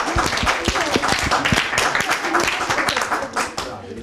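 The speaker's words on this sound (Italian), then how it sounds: "facciamogli un applauso" Studio audience clapping on a youth football television show, with scattered, uneven claps heard under ongoing talk and some crowd noise.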